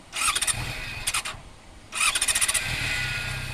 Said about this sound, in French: Je mets mon moteur en marche.